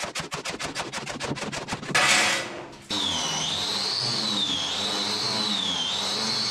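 Rapid, rhythmic scraping strikes of a shovel scraping fibres off a hard floor, followed by a burst of harsh grinding noise and then a steady, loud machine whine.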